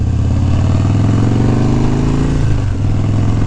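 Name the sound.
Harley-Davidson Dyna motorcycle riding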